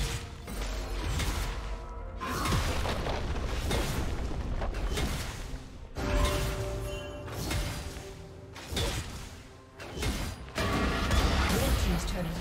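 Mechanical crunching and booming as a turret is destroyed in League of Legends, with clanking, grinding impacts in several heavy bursts and brief dips between them, layered under game music and effects.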